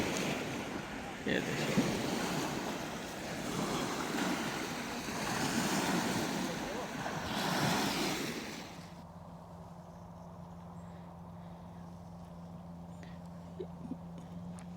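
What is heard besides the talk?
sea waves on the shore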